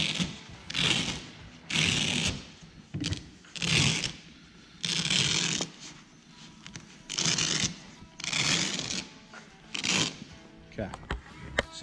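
A soft roll-up tonneau cover on a 2022-2024 Ford Maverick being rolled back up, a series of rhythmic rustling, rubbing fabric sweeps with pauses between, close by.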